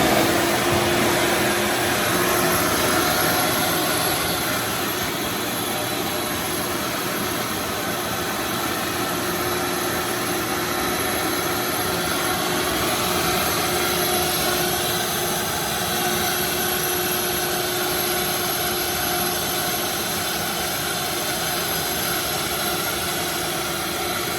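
Wet vacuum sucks flood water through its hose in a flooded barn or shed, a loud, continuous motor whine and rushing airflow that holds steady for the whole stretch with no talking.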